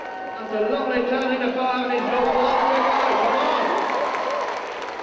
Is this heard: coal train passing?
no